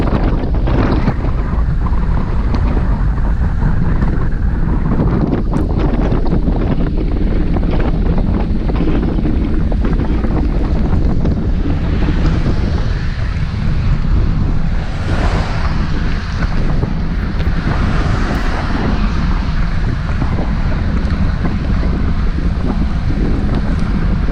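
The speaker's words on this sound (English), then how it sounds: "Now the wind's coming from the left, slightly behind us" Strong wind buffeting the microphone during a group bicycle ride along a highway near Lake Conroe, a loud, constant roaring rush that fills the whole stretch with no voices.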